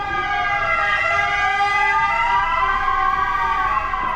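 Ambulance siren wailing steadily on an Italian street in a seaside town, loud and close with rising and falling tones over traffic noise, no talk.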